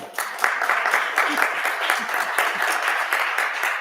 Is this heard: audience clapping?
yes